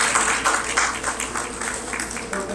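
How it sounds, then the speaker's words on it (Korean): A small gathering at a Korean community reunion event in a hall gives brief applause, with uneven clapping at moderate volume over a low background hum. "우리 큰 박수 부탁드리겠습니다."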